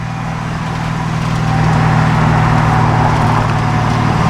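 A 1986 Ford Mustang GT drives along with a steady low engine drone and road noise heard from inside the car, the engine swelling slightly partway through, with no talking.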